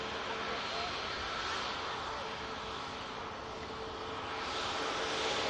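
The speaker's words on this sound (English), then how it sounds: "Ryanair just arriving from Almeria, Max 8200, Mike Yankee." A Ryanair Boeing 737 MAX 8200 jet arriving at Manchester Airport produces a steady, broad engine roar that swells slightly toward the end, loud and continuous from nearby.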